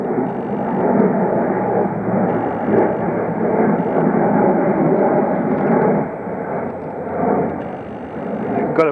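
A low-flying plane passes overhead during a countryside walk near Weobley and Garnstone Wood in Herefordshire, a steady broad roar that holds loud for the whole stretch with small swells, alone with no talk.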